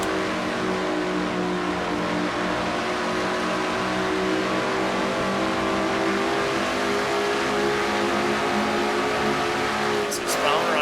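A stock car in a racing video game roars past at speed at Dover, its engine note held steady and loud. A commentator talks over it throughout.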